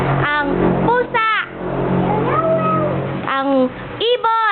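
A voice imitates a cat's meow, with several drawn-out, rising and falling mewing calls heard up close, and people talking in between.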